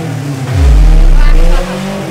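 An ailing Chevrolet Chevette engine cranks and fires, then revs hard in a loud surge before dropping back to a rough idle, close to the listener.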